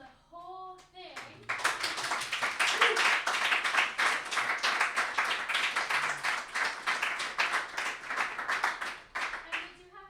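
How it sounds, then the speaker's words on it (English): An audience at a live multimedia reading breaks into sustained, dense applause lasting several seconds, with brief speech before and after. "Let's have one more round of applause for the whole thing."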